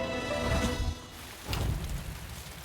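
Heavy rain pours down as a dense, continuous hiss that stays loud throughout and swells briefly in two gusts.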